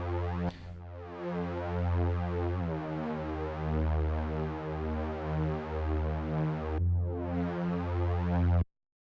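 A thick, detuned Reese bass synth from the Ableton Operator preset Reese Odyssey drones loud and sustained with a slow phasing wobble, changing pitch twice before it cuts off sharply.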